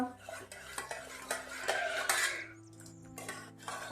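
A spoon stirs and mashes a red chili mixture with garlic in a metal pot, giving repeated scraping and clinking strokes at close range, with no talking.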